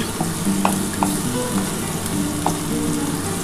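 Onions fry with a little sugar in a pan, giving a close, continuous sizzle with light crackles and a few scattered stirring clicks.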